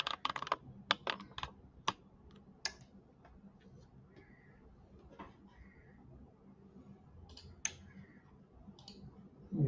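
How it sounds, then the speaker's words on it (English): Sharp clicks from a small relay module wired to an Arduino, switching several times in irregular bursts, fairly close and alone over a low electrical hum. "Yeah, you can hear the clicking sound,"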